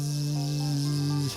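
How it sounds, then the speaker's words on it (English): A bloodstone in Oceanhorn 2 gives off a steady, low vibrating hum that stays loud and even, then cuts off sharply near the end. "you know you're next to a bloodstone when you hear that"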